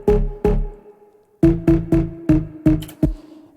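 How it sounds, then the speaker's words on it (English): Organic Lows bass patch from Native Instruments Massive X, playing short plucked notes: two hits, a short pause, then a quicker run of six, heard loud and alone. "from Massive X from Native Instruments, there's this kind of in-between sound that's kind of a mixture of both of them, and it's called Organic Lows"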